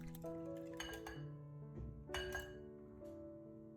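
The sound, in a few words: whisking eggs with seasonings in a bowl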